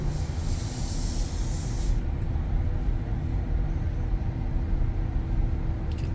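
The defroster of a 2022 Tesla Model Y Long Range blows air in a steady, close whoosh and hiss over a low cabin rumble, with a brighter airy layer that drops away after about two seconds; no one talks.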